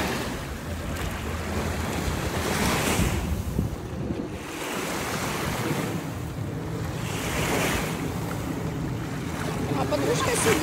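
Ocean surf on a beach in Cancun, Mexico: a steady loud roar of breaking waves that swells and eases in slow surges, with wind buffeting the microphone throughout.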